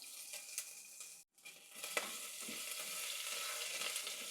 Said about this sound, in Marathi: तेल तापलंय, यात आपण आता 1 चमचा जिरे घालूया, 1 चमचा मोहरी घालूया, कढीपत्ता घालूया